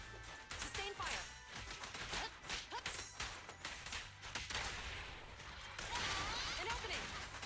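Rapid gunfire from Zhu Yuan in Zenless Zone Zero: dense, clattering bursts of shots and impacts that run through the whole stretch over busy game effects, with no gaps of quiet.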